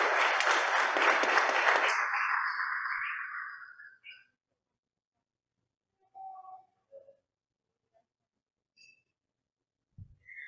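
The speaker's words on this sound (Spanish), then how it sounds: "si podemos cerrar con un gran aplauso para las personas que nos acompañaron y expusieron el día de hoy" A conference audience gives the day's presenters a closing round of applause: dense clapping that fades out after about four seconds, followed by near silence with a few faint scattered sounds.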